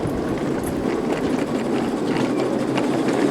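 A small backyard railroad train runs steadily nearby on the Crow's Nest Railroad, a close, continuous rumbling and clattering at an even loudness for the whole stretch, with no talking.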